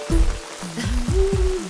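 Heavy rain pours down in a steady, dense hiss, with a wavering tonal, voice-like sound riding over the downpour.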